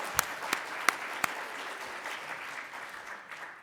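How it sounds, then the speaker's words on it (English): A small audience at a scientific lecture claps for a moderator's birthday, a few sharp, distinct claps up front thinning quickly into faint, scattered patter. "So please join me in a round of applause for our moderator tonight."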